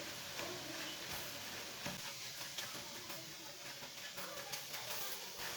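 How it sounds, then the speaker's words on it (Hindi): Semolina roasting with grated carrots in a pan for carrot halwa, giving a steady soft sizzle with scraping stir strokes throughout, close and moderately loud. "सूजी को थोड़ा सा भून लेंगे इधर ही।"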